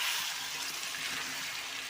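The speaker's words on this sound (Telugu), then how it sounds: "ఇక కలిపేసి ఇంక వాటర్ పోసేసేయి" Water poured into a pot of chicken curry, a brief steady rushing splash heard close by with no talking.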